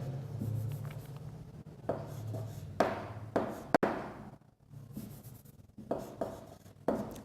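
Hand writing a math equation for a matrix transpose, soft pen strokes scratching and tapping in short irregular bursts with pauses between, close and quiet with no talk.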